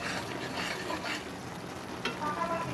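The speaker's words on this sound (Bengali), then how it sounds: "আমি অনেকক্ষণ ধরে কষিয়ে নিচ্ছি।" Spice paste sautéing in oil for a spicy chicken roast, with a steady sizzle and stirring that scrapes the pan close by. The sound holds at a fairly even level throughout.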